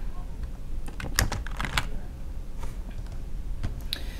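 Rapid keystrokes on a computer keyboard while entering an email address into a Roundcube webmail compose form, a steady close patter of clicks with a few louder taps.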